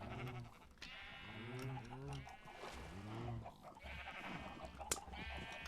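Dyed sheep in the video game Minecraft bleating repeatedly, with several close wavering bleats in quick succession and a farm-animal background, while a player talks over them.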